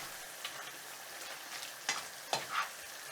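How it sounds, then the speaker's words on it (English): Chicken and cornstarch are stirred in a hot frying pan: a spoon scrapes and taps in a few distinct strokes over a steady, close sizzle. "stir for 20 seconds."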